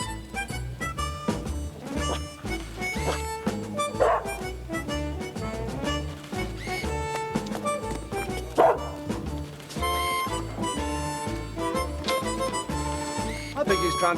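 A dog barks a few times over a steady bed of loud music, the yaps short and partly buried rather than standing alone.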